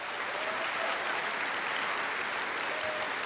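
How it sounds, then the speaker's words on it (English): A full audience applauds at a college commencement ceremony, a loud, even, sustained wash of many hands clapping that holds steady for over three seconds without talk. "Please join me in a round of applause."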